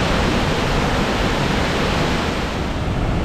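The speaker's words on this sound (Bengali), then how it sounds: "একটু আগে যে বৃষ্টি হলো, ক্যান্ডি লেকের পানি এত বেশি বেড়ে গেছে যে এটা বের হওয়ার জন্য একটা জায়গা করেছে।" Rain-swollen water from Kandy Lake in Sri Lanka overflows and rushes out in a loud, continuous roar, a broad steady wash heard close with no voices.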